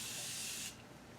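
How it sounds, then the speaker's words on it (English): Makeup setting spray misted over the eyes, one short close hissing burst that cuts off sharply after well under a second. "I usually like to take a setting spray and go over my eyes just to make sure that that powder stays in place."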